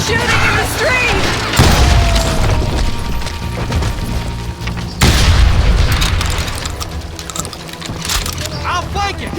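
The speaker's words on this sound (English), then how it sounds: "They're shooting in the street!" Gunfire in a street in the Western shooter game Call of Juarez Gunslinger, with heavy booming shots and crashing impacts over a busy battle din while characters shout nearby.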